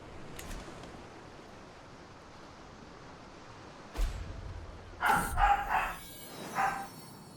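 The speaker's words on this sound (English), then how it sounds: "Sorry, dogs are barking." Dogs barking in the background: a faint early yelp, then a distant bark followed by a quick cluster of several barks and one more, all moderately far away over a quiet room.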